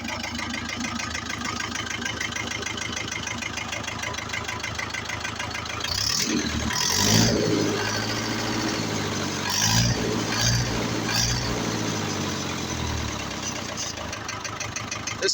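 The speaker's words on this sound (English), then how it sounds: "this thing's running burnt motor oil right now" A vintage 1968 WainRoy backhoe digging a septic tank hole, its diesel engine running on burnt motor oil with a steady, throbbing idle; someone talks over it for most of the clip, and the engine revs briefly midway.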